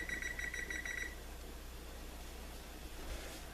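A kitchen timer beeping rapidly in a burst of about six high, shrill tones for the first second as it is set, then only faint room noise.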